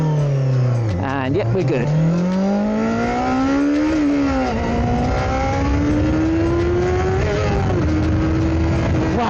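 A restored 1989 Yamaha FZR 400 motorcycle running and being ridden, its engine loud and close with rising and falling revs through gear changes, someone briefly speaking over it.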